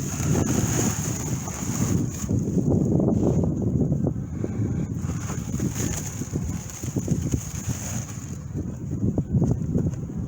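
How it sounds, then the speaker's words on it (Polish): Strong wind buffets the microphone in continuous rumbling gusts during a spring beehive inspection outdoors, loud and steady throughout, with a thin high whine running underneath. "spory wiatr, więc trzeba będzie uważać."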